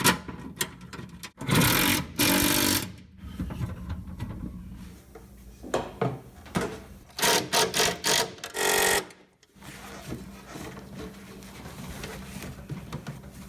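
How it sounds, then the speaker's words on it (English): Welding a bead on a quarter midget racing seat, with several loud crackling bursts of a few seconds each separated by quieter gaps, and a cluster of short rapid bursts in the middle. "ready to weld. I've got a little magnet holding the two pieces together, makes it super easy to get in there and run the actual bead."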